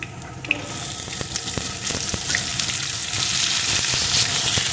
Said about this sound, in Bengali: ডাঁটাগুলো আলুর সাথে একটু ভেজে নেব